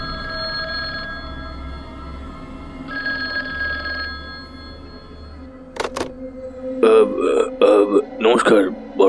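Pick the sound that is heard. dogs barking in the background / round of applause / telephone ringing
telephone ringing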